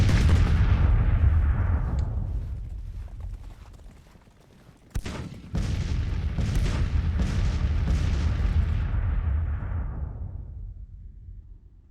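Six-pounder field guns fire in the Civil War strategy game Grand Tactician, heavy booming rolls of artillery that rumble and fade, with a sharp report midway followed by more sustained rumbling.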